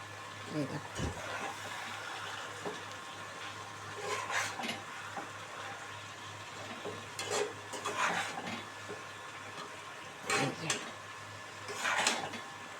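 A spatula stirring cabbage cooked with a fish head in a pan, scraping in short, scattered bursts separated by quieter gaps over a low background hum.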